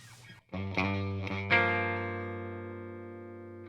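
An Eastman Fullertone electric guitar on its low-output soap bar humbucker plays a few struck chords, the last one left to ring out and slowly decay, heard close and alone.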